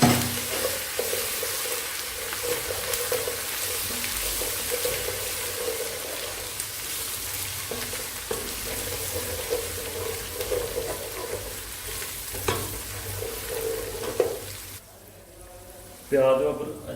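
Onion and ginger-garlic paste frying in a pan for egg curry: steady sizzling with occasional stirring scrapes, a close continuous hiss, briefly quieting near the end as it is stirred.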